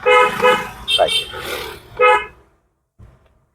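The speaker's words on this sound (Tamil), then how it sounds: "ஹாரன் இன்னொரு முறை" A car horn toots several short times close by, in quick bursts mixed with someone speaking, then a brief thud before quiet.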